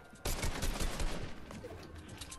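Rapid Fortnite gunfire erupts suddenly and loud, a dense burst of automatic shots rattling continuously for about two seconds before trailing off slightly.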